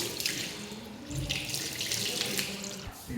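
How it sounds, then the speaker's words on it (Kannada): Cold water runs from a tap at a homestay in Ooty, a steady close hiss and splash with no talk. "ಈ ಕಡೆ ಕರ್ನಾಟಕದಲ್ಲಿ ನಲ್ಲಿ ನಾರ್ಮಲ್ ನೀರು ಬಂದರೆ ಇಲ್ಲಿ ಹೆವಿ ಕೋಲ್ಡ್"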